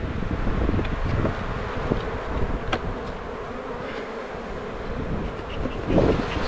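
Honeybees buzz around an open hive during a winter inspection before purchase, a dense continuous droning hum close by with occasional louder passes of individual bees.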